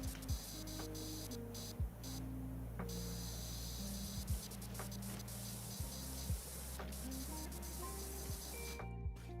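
Pressure washer spray from the video game Powerwash Simulator, a steady broadband hiss running throughout with soft clicks and thumps, loud and continuous with a brief drop near the end.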